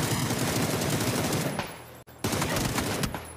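Rapid automatic gunfire in a competitive PUBG esports match, dense continuous bursts of shots that pause briefly, then resume, loud and close throughout.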